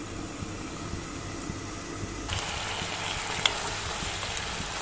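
Chicken liver adobo cooks in a covered pan, giving a faint, steady low sizzle and hiss that grows slightly brighter partway through, with occasional small pops and no talking.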